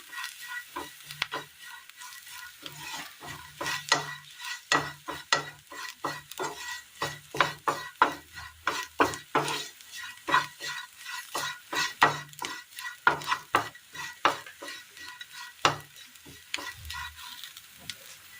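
Spices frying in oil in a pan and stirred briskly, giving a steady stream of close scraping strokes and clinks over a soft sizzle, with no talking.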